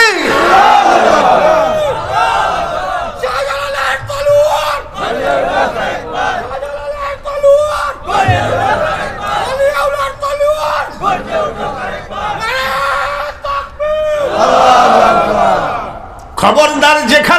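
A large crowd at an outdoor Islamic religious sermon roars back in unison to the takbir call, several loud rhythmic shouted responses alternating with a lone preacher's amplified call.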